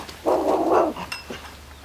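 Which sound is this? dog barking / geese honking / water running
dog barking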